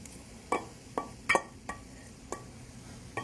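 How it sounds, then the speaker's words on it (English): Corn hits a pan of mostly evaporated liquid and gets stirred, a series of about seven sharp clinks and scrapes of a utensil against the pan over a faint low sizzle, fairly close. "So I'm going to go ahead and add my corn"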